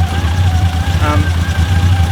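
A 30-year-old car's engine idling roughly with a suspected exhaust leak near the extractors, a lumpy, uneven low rumble heard up close while someone talks over it.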